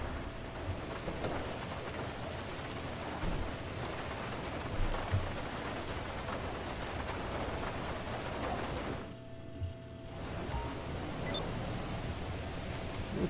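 Steady rain in GTA 5 Online, a continuous hiss of falling drops at moderate level, briefly cutting out near the end before resuming.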